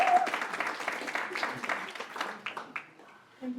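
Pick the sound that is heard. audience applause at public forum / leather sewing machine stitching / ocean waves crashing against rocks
audience applause at public forum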